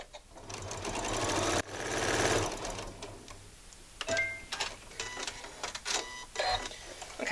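Janome Memory Craft 15000 sewing machine stippling fabric held taut in a hoop: rapid mechanical needle chatter in bursts with brief pauses and clicks, close and fairly quiet.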